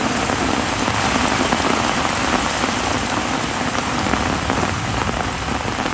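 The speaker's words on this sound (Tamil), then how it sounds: "நண்பகலில் மழை கொட்டி தீர்த்தது" Heavy midday rain pours down steadily in Tamil Nadu, a dense, loud, unbroken hiss of drops drumming on surfaces with no voices.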